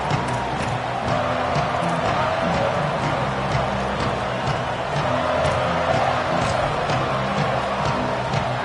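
A packed home crowd in a college football stadium keeps up a dense, steady roar, loud and unbroken throughout with no lulls.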